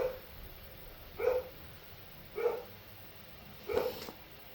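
Three short yippy barks from a small dog, evenly spaced about a second apart and moderately close, over a steady low background hum.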